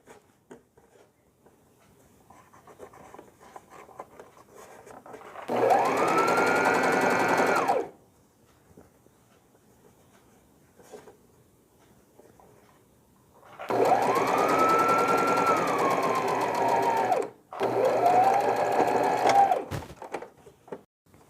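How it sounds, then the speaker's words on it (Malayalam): A sewing machine stitches the folded neck of a newborn frock in three steady whirring bursts of a few seconds each, close and loud, with quiet handling of fabric in the pauses between runs. "ഞാൻ നെക്ക് ഫോൾഡ് ചെയ്ത് സ്റ്റിച്ച് ചെയ്യുകയാണ്"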